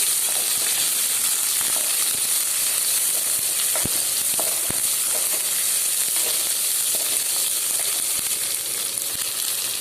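Curry leaves, dried red chillies and small shallots fry in hot oil for a fenugreek curry, a continuous close, loud sizzle with occasional sharp crackles and pops, no voices.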